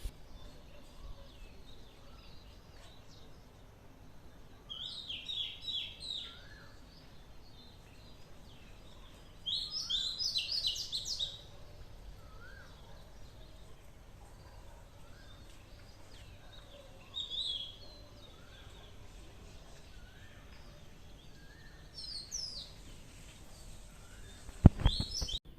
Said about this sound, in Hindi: सुबह सुबह चिड़िया की आवाज़ें आ रही हैं